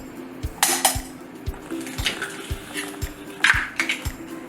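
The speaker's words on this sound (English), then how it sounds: "we are going to put 2 eggs in a little bowl" Two eggs clatter into a small bowl while preparing dough for orange rolls, a few sharp knocks and taps against the dish with faint kitchen clinks between, close and clear with no talk.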